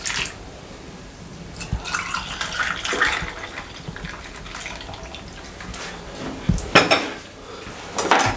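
A spoon stirs a chilled sago and milk drink in a metal pot, giving close liquid swishing broken by irregular clinks and scrapes against the pot, without any talking.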